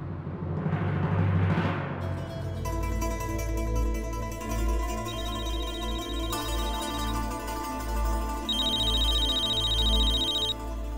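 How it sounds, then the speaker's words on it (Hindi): A telephone rings with an incoming call in a Hindi TV drama scene, a steady electronic ringtone with repeating bright tones playing alone over a low musical background, no talking. "अरे अनुराग का फोन है"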